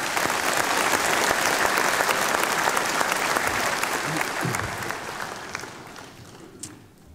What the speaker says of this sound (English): Maybe one more time, a round of applause.